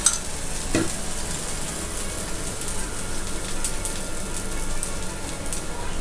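Adai dosa, a lentil batter crepe, fries on a hot pan with a generous pour of oil, giving a steady, dense sizzle throughout, with one brief sharper crackle near the start; no talking.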